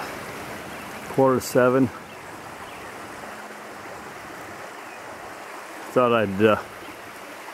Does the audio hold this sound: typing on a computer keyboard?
no